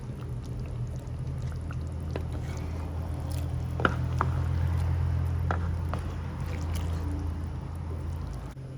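A small spoonful of vinegar is poured into chicken cooking in a pot for Kerala chicken curry, heard as a soft liquid pour under a steady low bubbling simmer, with a couple of faint clicks.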